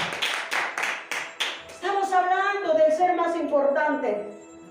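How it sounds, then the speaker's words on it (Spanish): A church congregation in Madrid claps in a steady rhythmic beat for a few seconds, then a singing or chanting voice takes over with the clapping fading beneath it. "denle un aplauso, hermano, al Señor"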